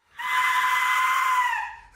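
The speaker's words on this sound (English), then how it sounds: "I just 3D printed this whistle thing called an Aztec death whistle, which perfectly mimics the sound of a dying Aztec" A 3D-printed Aztec death whistle gives one loud, sustained shrill scream that holds steady for well over a second before tailing off, heard alone.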